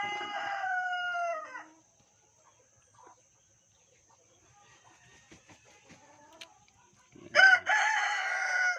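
Roosters and hens from a small backyard flock of Rhode Island Red, Sussex and native chickens crow loudly at the start and again near the end, with quiet clucks and faint rustling in the lull between.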